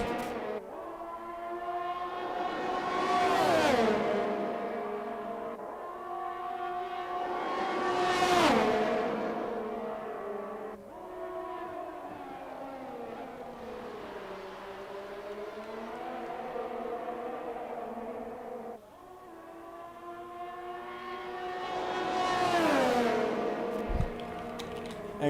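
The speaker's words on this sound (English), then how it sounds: "you guys can enjoy the sound of these cars." Formula 1 race cars from the video game F1 2021, racing at the Saudi Arabian Grand Prix, sweep past in high-revving whines that rise and fall. Several pass-bys swell and fade over a steady engine drone, with no talk.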